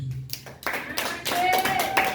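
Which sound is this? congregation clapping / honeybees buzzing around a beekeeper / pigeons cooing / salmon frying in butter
congregation clapping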